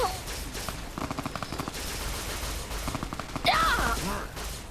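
Enemy gunfire in Fallout: New Vegas, with rapid bursts of automatic shots and a loud burst of impacts near the end. A voice talks over the shooting.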